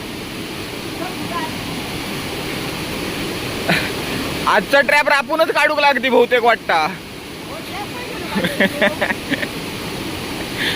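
A muddy, swollen stream rushes in a steady roar of water close by, continuous throughout, while someone talks briefly over it in the middle and near the end.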